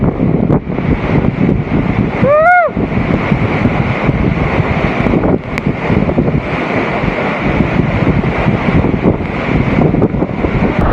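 Zenith waterfall at Khopoli pours down in a steady, loud, broadband roar that fills the whole stretch, with a brief whistling tone near the middle and no voices.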